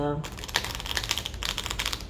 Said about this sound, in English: So that's why I like to shuffle in front of the camera.